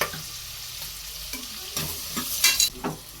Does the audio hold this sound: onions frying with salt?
yes